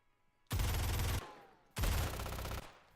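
Two loud, close bursts of automatic gunfire in a competitive shooter video game match, each lasting just under a second with a short gap between, heard alone without talk.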